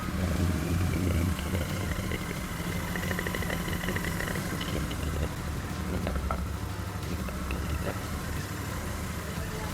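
A Royal Enfield Super Meteor 650 in Interstellar Green, a parallel-twin motorcycle, idles with a steady, rumbling exhaust note at close range, the level unchanging for the whole stretch.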